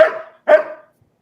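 Two loud, close dog barks in quick succession, each sharp at the start and fading quickly, with silence after and no talk.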